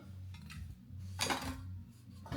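A normal bowl for mixing chapati dough knocks and clinks against other kitchen items during an unboxing, with a few soft, quiet handling taps and one brighter clink.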